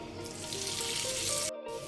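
Washed vermicelli tipped into a frying pan with peanuts, giving a loud, dense sizzle that holds steady before a brief sharp break and resumes.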